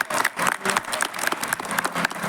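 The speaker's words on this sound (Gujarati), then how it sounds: "એની એક જોરદાર તાળી પાડી દો." An audience at an award function applauds, a dense, steady crowd of clapping hands heard close and loud throughout.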